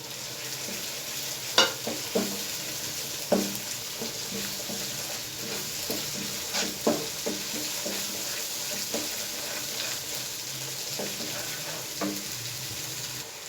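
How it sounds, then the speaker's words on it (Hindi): Spices frying in tomato puree in a pan for dhaba-style chana dal karahi, a steady soft sizzle with occasional scraping stirs and clinks, moderately close, no talking. "सिर्फ 30 सेकंड इसको हम भूनेंगे मसाले को इस प्यूरी के अंदर।"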